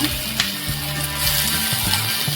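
A tomato goes into a pan of fried onions, setting off a steady close sizzle with faint stirring scrapes and no talk.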